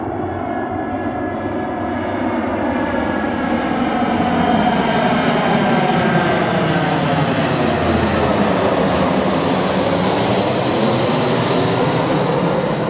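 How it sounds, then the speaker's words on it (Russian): A muffler-equipped light aircraft's engine drones steadily and loudly throughout in flight, a continuous propeller-engine hum with a rising and falling tonal pattern, no voices. "Слушай, как тихо работает, да? Вообще мотор, обалдеть."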